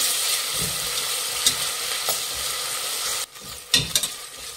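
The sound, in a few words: ginger garlic paste frying with onions, being stirred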